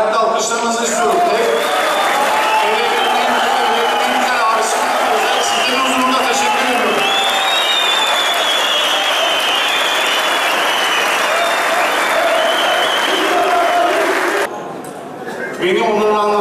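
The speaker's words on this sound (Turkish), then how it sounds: "özellikle ayakta alkışlamanızı istiyorum" A standing ovation from the crowd at a municipal sports club gala night, loud and sustained dense clapping with cheering voices mixed in, continuing for about fifteen seconds before cutting off sharply.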